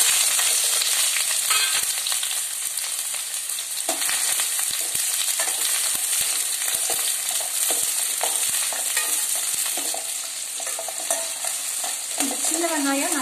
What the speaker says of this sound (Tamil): தேவையான அளவு ஆயில் விட்டுக்கலாம். இப்ப சின்ன வெங்காயத்தை போட்டுடலாங்க.